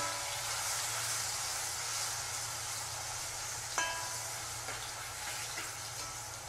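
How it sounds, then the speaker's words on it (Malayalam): Banana pieces sauté in hot ghee with a steady, close hiss of sizzling, broken by a few sharp crackles and pops about midway. "ഈ പഴം നല്ലതുപോലെ ഇതിൽ നമുക്ക് ഇതുപോലെ റോസ്റ്റ് ചെയ്ത് വഴറ്റിയെടുക്കണം."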